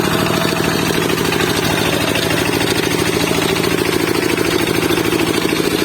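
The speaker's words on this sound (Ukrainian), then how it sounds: "І просто такий тракторець, бачите?" A small tractor engine runs steadily up close, a loud continuous chugging drone with a rapid, even pulse and no pauses.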